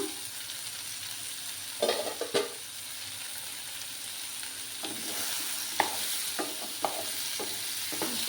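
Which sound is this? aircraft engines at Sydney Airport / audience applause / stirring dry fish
stirring dry fish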